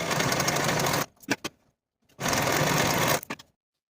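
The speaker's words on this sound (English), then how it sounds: "I'm going to start by finishing the slanted edge using my serger" A serger finishes the slanted edge of a zipper jacket pocket in two fast, steady bursts of rapid mechanical stitching, each ending with a few short clicks, separated by a brief pause and heard close and alone.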